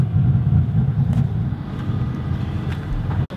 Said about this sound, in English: So we just put the car back onto the trailer.